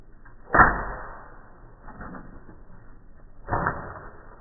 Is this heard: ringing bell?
no